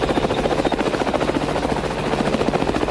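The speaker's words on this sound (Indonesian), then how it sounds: "Yuk kita naik helikopter ya." Helicopter rotor beating steadily and loud throughout, close by, with no other sounds, heard from aboard during a flight over the Pesanggaran area.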